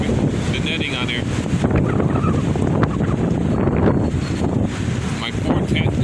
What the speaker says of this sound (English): My poor tent is being buffeted. Wow. The wind is just blowing like crazy.